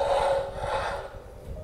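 Rasping back-and-forth sawing through iron in a horror video game, two or three drawn strokes with a steady scraping rhythm, close and fairly loud, then a thinner tail as the cutting eases.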